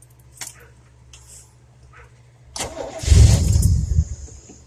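A 400 small block V8 in a 1977 Chevrolet motorhome cranks briefly after a few quiet clicks, then catches and roars to life loudly up close before settling into a rumbling idle.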